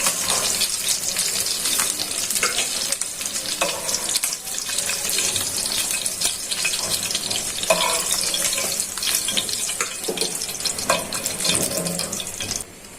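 Golsha or tangra fish fry in hot oil, a continuous dense crackling sizzle that holds for several seconds, with faint clatter and water-like hiss and no voices.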